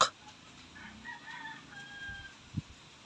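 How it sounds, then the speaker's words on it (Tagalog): Faint clucking and drawn-out calls from a hen on a farm come from a distance, with a brief low thump near the end. "Babae na manok."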